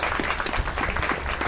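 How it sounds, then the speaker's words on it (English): An outdoor Tea Party rally audience on a chilly October afternoon gives a round of applause, steady scattered clapping heard faintly and briefly without speech. "Let's give them a round of applause."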